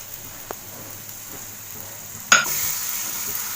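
Tomato puree poured into a hot masala for chole, a quiet pan that bursts into a loud, sustained sizzle partway through, with the frying hiss carrying on to the end, no talking.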